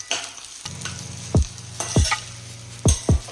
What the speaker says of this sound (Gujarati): આ લાસ્ટમાં આપણે હવે કેપ્સિકમ પણ એડ કરી દીધું। બધા વેજીસને આપણે હવે બરાબર મિક્સ કરી લઈશું।